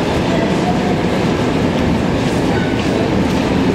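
An MR-73 metro train on Montreal's Blue Line rumbles steadily along the tracks, its rolling clatter loud and close throughout, with faint voices in the background.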